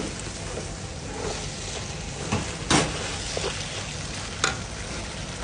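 Fish balls frying in oil in a pan give a steady, dense sizzle throughout, with a few sharper clicks and stirring knocks of a utensil rising briefly above the hiss.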